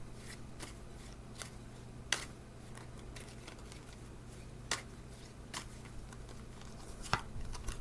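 Tarot cards being shuffled by hand in a quiet room: soft, irregular riffling and flicking with occasional sharper snaps, faint and close over a low steady hum.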